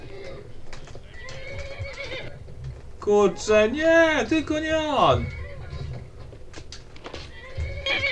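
Shadowmere, a horse in Skyrim, lets out a loud drawn-out neigh midway, amid clip-clopping hooves and game ambience, while someone speaks before and after.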